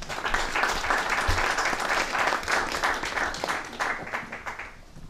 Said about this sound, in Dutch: Dankjewel Henk, een applaus is jouw deel.